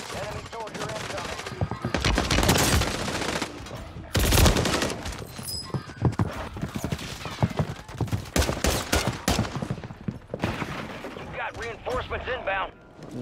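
Heavy Call of Duty battle gunfire, loud bursts and sustained volleys crackling throughout, mixed with explosions and in-game voice radio chatter over the shooting.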